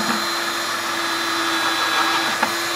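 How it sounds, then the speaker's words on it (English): A steady, high-pitched whine of a power drill drilling a hole in a plastic bucket, running continuously up close, with a brief click near the end. "drill a quick hole near the top of the bucket"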